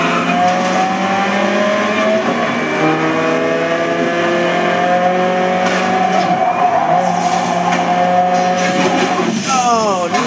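Racing car in the video game Blur, a continuous loud engine whine with rising and falling gear-shift tones, brief tire squeals and skids, and other cars roaring nearby throughout.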